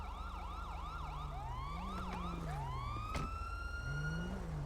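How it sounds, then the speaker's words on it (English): Police and emergency sirens wail in the FivePD police game, several overlapping sweeping and yelping tones, fairly loud and continuous over a low engine rumble, with no talking. "I hear other sirens too."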